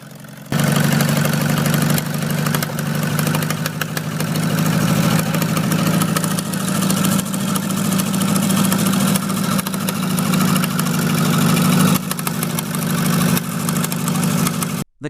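An old tractor engine runs under load, a steady, loud, droning mid-low chug that holds for about fifteen seconds with no talk.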